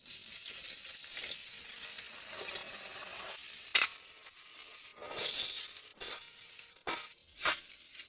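Ramen cooking in a pot inside a kei car during an extreme off-grid winter, with soft simmering and sizzling plus occasional stirring, scraping and clinking noises, a couple of sharper bursts standing out near the middle.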